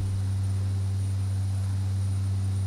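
A King Air turboprop cruises in X-Plane 11 above LaGuardia, its twin engines giving off a steady, loud, droning hum with a constant low tone and no voices.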